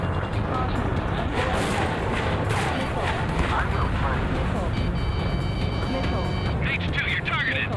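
Missile launches and dense combat noise from the Ace Combat 7 jet fighter game, with a constant loud roar of engines and bursts of fire, rapid warning beeps near the end, and voices talking throughout.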